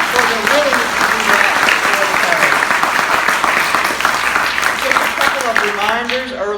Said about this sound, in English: let's give them all a round of applause for their willingness to do